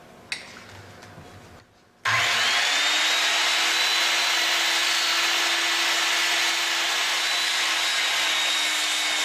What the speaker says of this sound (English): So I'll be cutting this line again at a 45-degree bevel.